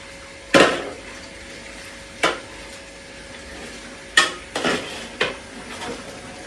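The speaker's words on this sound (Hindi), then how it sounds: "अभी पहले इसमें आपने इसको अच्छे तरीके से मिक्स करना है।" Meat masala for aloo gosht being mixed in a pot, several distinct spoon clanks and scrapes against metal spaced apart over a faint background sizzle, close by.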